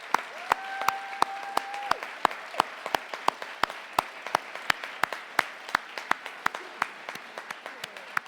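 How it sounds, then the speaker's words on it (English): Sparse, scattered hand claps from a conference audience ring out one by one with uneven rhythm, fairly close, while a faint steady tone sounds briefly near the start. "Can we have a round of applause,"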